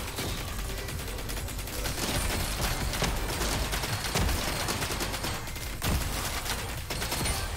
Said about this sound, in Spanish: Está muy guapa esa explosión, ¿eh?